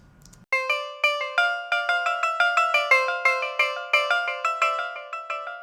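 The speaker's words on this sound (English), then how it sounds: "So I have the tumbi going here, and if I solo that," A solo tumbi, a Punjabi string instrument, plucks a bright, twangy, repetitive melody, each note sharp and ringing with delay echo trailing behind, steady and close.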